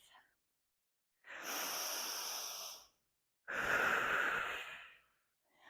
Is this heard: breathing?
yes